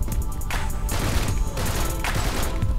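Rapid bursts of gunfire in a Garry's Mod shooter game, loud and close, firing in quick repeated clusters with brief gaps between volleys.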